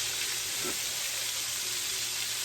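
Liver and onions frying in a pan, a steady close hiss and sizzle that runs unbroken throughout, with a soft stir or shift in the middle.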